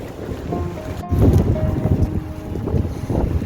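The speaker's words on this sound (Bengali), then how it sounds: "এত হাওয়া প্লাস বৃষ্টি তো যেন বৃষ্টির ঝাড়টা পুরো আসছে এদিকে" Heavy rain driven by strong wind outdoors in the UK, with gusty wind buffeting the microphone and a rushing roar that surges in uneven waves, no voices present.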